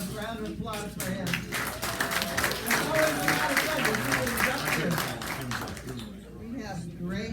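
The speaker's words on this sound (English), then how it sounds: "Let's have a round of applause for him." A burst of clapping and applause from a small crowd at a club general meeting fills several seconds, swelling and then tapering off, with voices mixed in.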